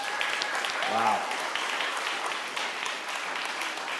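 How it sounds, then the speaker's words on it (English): Audience at a conference closing session applauding, a dense sustained round of clapping with a brief exclamation from a voice near the start. "huge round of applause for all the 9 speakers today."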